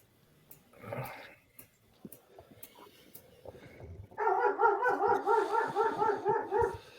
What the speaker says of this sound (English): Not my dog.